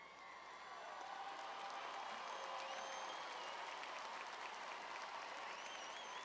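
Sustained applause from a commencement audience of family, friends and fellow students for undergraduates graduating with honors, a dense wash of clapping that swells in the first second and holds steady, with faint crowd murmur beneath.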